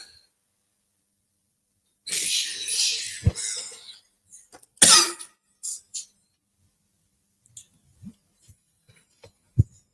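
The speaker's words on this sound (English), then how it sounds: "when I coughed, y'all heard it too" A person coughs a couple of times into a microphone during an online class, two short harsh bursts close up, followed by soft scattered taps and small noises in an otherwise quiet room.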